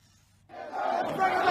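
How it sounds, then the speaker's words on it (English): A protesting crowd in Sudan swells suddenly into loud, massed shouting and chanting, rising and continuing at close range. "The anger and the grief among crowds who've continued to protest despite the threat from live ammunition"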